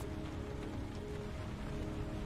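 Steady rain patters without pause across surfaces in a video game, a soft, even hiss of drops that holds constant throughout with no voices.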